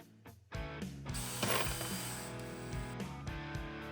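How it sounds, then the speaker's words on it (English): A ratchet clicks in quick, repeated metallic bursts while loosening 13mm soft top bolts on a vehicle during a hardtop installation, close and fairly quiet with a steady mechanical hum underneath. "remove the 3 13mm soft top bolts on each side"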